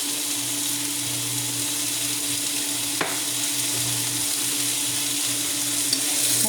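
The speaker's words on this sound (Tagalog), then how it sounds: "Haluin ng haluin" Bitter gourd (ampalaya) and eggs seasoned with oyster sauce frying in a pan give a loud, continuous close-up sizzle with a faint low hum beneath and a single sharp utensil tap partway through.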